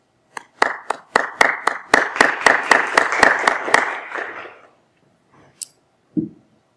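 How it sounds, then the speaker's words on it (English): An audience at a 2020 high school graduation ceremony claps for the graduates: about a dozen sharp, evenly spaced claps that fade out, followed by a couple of isolated knocks. "please join me in a round of applause for the soon-to-be graduates."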